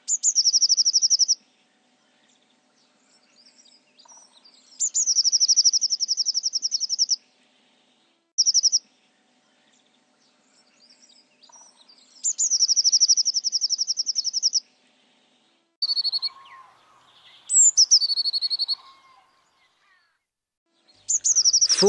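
A blue tit, having come from the woods into a winter residential area in search of food, gives repeated high, thin trilling calls in several separate bursts with pauses between, clear and fairly close, with no other sounds.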